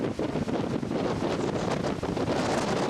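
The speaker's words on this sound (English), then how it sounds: "Can you hear that wind? It's so loud." Loud, roaring wind buffets the microphone in heavy, continuous gusts on Grandfather Mountain in the Blue Ridge, drowning out everything else.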